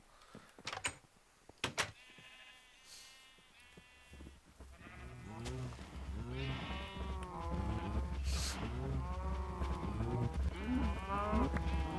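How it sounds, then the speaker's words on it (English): Cattle in the Minecraft video game moo repeatedly, several overlapping low bellowing calls building in a steady chorus after a few sharp clicks at the start. "go out here and slaughter some cattle."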